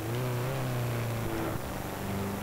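Engine winding out during a clutch boost in the Xbox 360 off-road racing game Jeremy McGrath Offroad, a sustained droning engine tone that climbs slightly and holds, loud and continuous.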